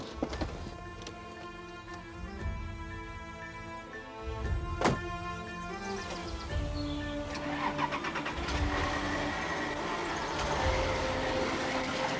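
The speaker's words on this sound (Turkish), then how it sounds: "Dur, dur bir saniye arabayı çekeceğim. Arabayı biraz öne alacağım." A car engine cranks and starts, then settles into a running idle as the car pulls forward slightly, heard close and moderately loud with no talking over it.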